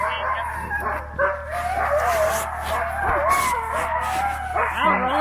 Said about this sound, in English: dogs making noise on that too